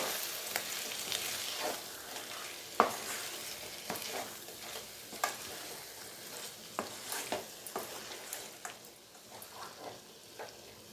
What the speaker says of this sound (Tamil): சேர்த்துட்டு அப்படியே கலந்துக்க வேண்டியதும்